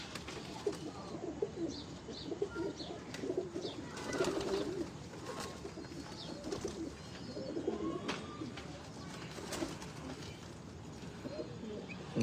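Pigeons cooing at a breeder's loft, soft repeated low coos near and far with scattered chirps and light flutters over a quiet background.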